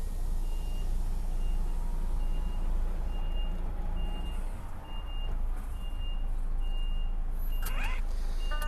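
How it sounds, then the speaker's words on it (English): An HGV truck's reversing buzzer beeps steadily at a regular pace over a loud idling engine rumble, with a hiss of air brakes near the end. "Gotta use the buzzer"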